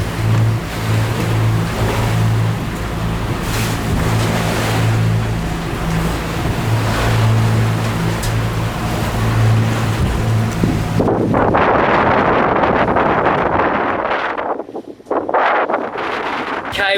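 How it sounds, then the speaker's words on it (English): Short, sharp sea waves of two to three metres hitting a sailing boat motoring at two knots on the way back to Brisbane: constant loud wash and slapping water with heavy wind buffeting, engine drone, and a voice talking over it. "We're doing 2 knots and we're punching into it, and it's a good 2 to 3 meters. Just those short, sharp waves."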